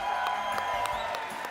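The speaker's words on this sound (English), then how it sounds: "And one last round of applause for our amazing contestants" Applause from a live game-show audience at TwitchCon 2017, a steady dense wash of clapping and faint cheers held at an even level throughout.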